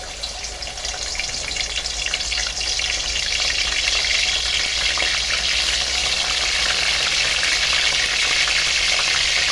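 Marinated chicken pieces go into hot oil and fry with a loud, dense, steady sizzle that swells slightly as cooking continues, heard up close with no talking.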